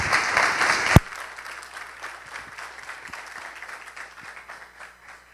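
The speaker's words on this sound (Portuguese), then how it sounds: "Uma salva de palmas para o nosso amigo." Applause from an audience after a talk at a tech presentation: a dense wash of clapping after an opening burst, fading gradually over several seconds, with no one talking.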